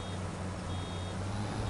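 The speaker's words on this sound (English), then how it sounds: "That beeping annoys me, but I can't stop it." Steady reversing alarm beeps from a vehicle in Farming Simulator 25 on a forestry map, a continuous high tone repeating over a low engine drone, fairly loud and alone.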